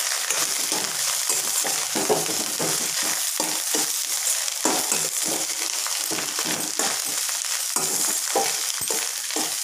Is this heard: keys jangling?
no